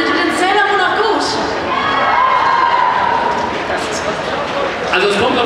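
A packed German anime convention crowd cheering and shouting in a continuous loud roar, many voices blended together over a wash of clapping.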